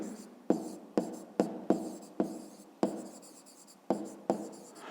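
Pen writing by hand on paper while recording a maths exercise answer, a series of about nine short scratchy strokes with brief pauses between them, close and quiet, with no talk.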